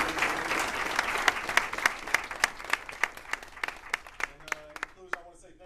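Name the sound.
audience applause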